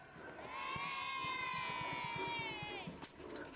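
A crowd of spectators cheers and shouts at a reenacted Roman gladiator fight at Kirby Hall. The roar swells steadily for about three seconds, carrying a sustained high whistle or shrill cry, and fades near the end.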